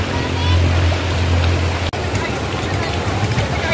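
Rough sea waves wash steadily at a beach resort in Quezon Province, a continuous loud roar of surf with a brief break partway through.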